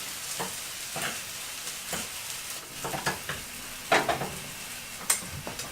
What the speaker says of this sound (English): I'm then going to gently mix the onion, chilli and garlic and oil mixture into the potatoes